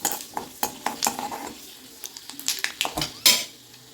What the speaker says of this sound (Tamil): எண்ணெய் ஊற்றிட்டு கடுகு, உளுந்தம்பருப்பு, சோம்பு, வெந்தயம் போட்டு பொரிய விட்டுட்டு